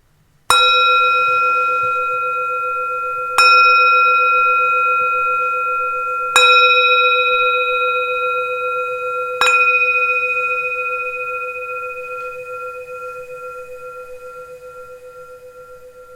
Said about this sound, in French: Les sons de ma voix, les sons d'un gong.